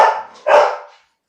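A dog gives two quick, loud barks close by, the second slightly stronger, then falls silent.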